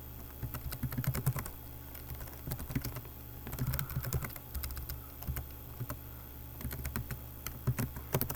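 Haskell code being typed on a computer keyboard in quiet, close, rapid bursts of key clicks separated by short pauses, with no speech.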